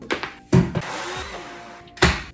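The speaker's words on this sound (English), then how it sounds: "the easiest method to grind this to where we actually want to is to put it in the blender" A kitchen blender grinds dry pancake ingredients in loud bursts, with whirring and clattering between pulses and no speech.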